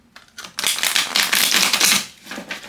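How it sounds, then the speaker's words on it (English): A deck of tarot cards being shuffled close by: a dense, rapid riffling flutter that builds, holds for about a second and a half, then tapers off. "I was gonna say it may take me a while to shuffle these."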